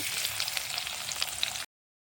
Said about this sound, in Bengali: তেলটা আমার গরম হয়ে গেছে পেঁয়াজ কুচি দিয়ে দিব